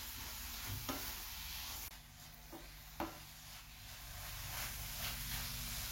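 Grated coconut and jaggery filling for sweet kozhukattai thickens in a pan under a soft, steady sizzle, with a few faint scrapes of the spoon standing out now and then, quiet and without speech.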